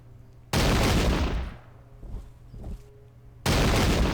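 Massed musket volleys in a Battle of Brandywine video game, two sharp loud crashes of simultaneous shots about three seconds apart, with scattered softer pops and fading echoes between them.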